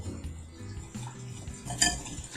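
Vinegar and olive oil dressing whisked in a bowl, giving light metallic clinks and scraping that are quiet and uneven, with one brighter clink near the end.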